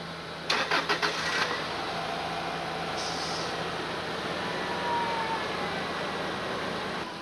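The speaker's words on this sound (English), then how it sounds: "we've got the car with the dead battery started" Car with a dead battery starting after a jump start: a short burst of starter cranking catches, then the engine settles into a steady idle nearby.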